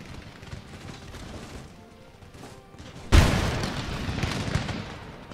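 Musket volleys in Empire Total War during a siege of Constantinople: a low rumble of distant battle, then a sudden loud crackling volley that rolls on with scattered pops and booms.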